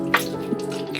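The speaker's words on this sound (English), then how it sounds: "I use my hands to squeegee excess water off his body." Sparse water drips and splashes as hands squeegee water off a freshly bathed, shaved dog, a few soft separate drops over a low background hum.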